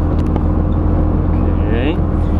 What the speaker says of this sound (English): Sounds like it's misfiring again